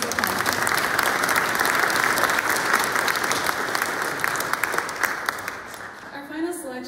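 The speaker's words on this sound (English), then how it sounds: "Another round of applause." Concert audience applauding student orchestra players after a string feature at a music center's spring orchestra concert; dense, steady clapping fills most of the stretch, then thins and fades near the end as a voice begins.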